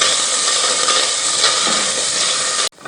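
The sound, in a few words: shredded chicken frying in pan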